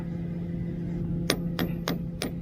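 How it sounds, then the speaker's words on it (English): A hammer strikes the exhaust bolts on a John Deere bulldozer four times in quick, even succession, each hit a sharp metallic clank over a constant low hum. "I'm hitting these exhaust bolts so that it's kind of like a pre-impact"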